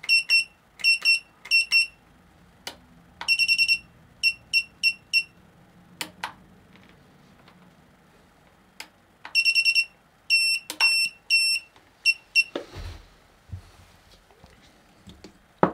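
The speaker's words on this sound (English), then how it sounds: "It's beeping away." Rapid high-pitched electronic beeps from a quadcopter drone flight controller running Betaflight 4.2, in repeated bursts and single chirps, loud and close, with a faint hum underneath.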